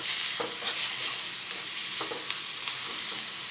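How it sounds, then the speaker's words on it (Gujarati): Sesame seeds and spices, for a chutney made from bitter gourd peels, sizzle softly in a pan while being stirred, with a few light spoon scrapes over a low, even frying hiss. "મિક્સ કરી લઈશું"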